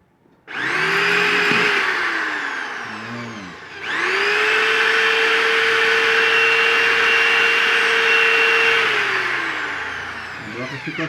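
Power drill bores with a drill bit while a fireplace burner is being built, giving two long, loud, steady whines with a short dip between them and someone speaking over the noise.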